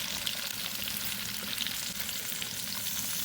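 Baby potatoes fry in a kazan cauldron with a dense, steady sizzle and crackle of hot oil, close and loud throughout without a break.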